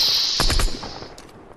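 Gunfire in a shooter video game, heard as a short burst of sharp, loud shots in quick succession, with a fainter pair of pops trailing after.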